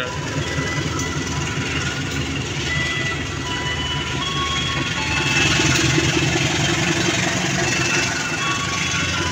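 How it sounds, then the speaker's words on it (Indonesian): The KA Serayu economy passenger train rumbles steadily along the rails at night, a dense continuous roar with faint clicking and engine drone, growing slightly louder midway; no talking. "Diberangkatkan kembali keretanya untuk menuju stasiun Cibatu, stasiun akhir."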